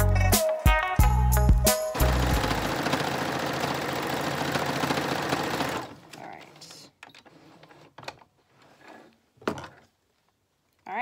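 A home sewing machine stitching around the edges of a fabric hammock, buzzing steadily and close for several seconds after a few short starts, then stopping and leaving quiet handling noises.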